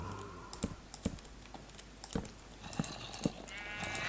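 Sheep in the Minecraft video game bleating amid rapid computer keyboard clicks, a few short bleats heard over steady typing, no talking.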